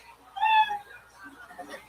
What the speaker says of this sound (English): you hear the sound of a kitty